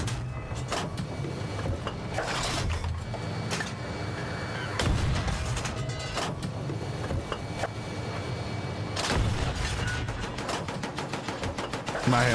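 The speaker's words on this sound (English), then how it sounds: "My arcing shots over a hillside, bro." Cannon shots arc over a hillside in the Battlefield 6 video game, with repeated heavy thumps and bursts of rapid fire layered over a dense, continuous battle din.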